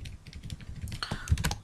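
Rapid keystrokes on a computer keyboard while a file path is typed, a quick, busy run of clicks with a louder tap near the end, close and without talk.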